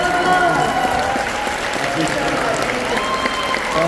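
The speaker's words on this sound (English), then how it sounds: "Guys, a round of applause" Convention crowd at the German Film & Comic Con applauding after a celebrity Q&A, loud continuous clapping and cheering throughout, with voices mixed into the noise.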